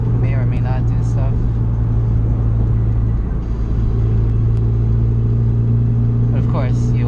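Steady low engine rumble and road drone from a car cruising after an MFactory 4.928 final drive install, constant and close throughout with brief chirpy sounds near the start and end, no talking.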